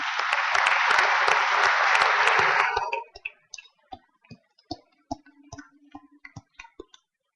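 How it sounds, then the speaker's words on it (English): Audience applause at a university College of Engineering spring commencement ceremony, a dense, loud burst of clapping for about three seconds that abruptly thins into scattered individual claps. "Let's give them a round of applause."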